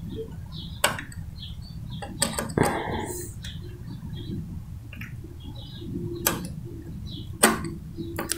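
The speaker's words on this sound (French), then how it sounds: "Je dévisse la plaque à aiguille." Metal creaks, clicks and taps come from an old Singer sewing machine as its needle plate is unscrewed, the quiet scattered mechanical sounds close and intermittent.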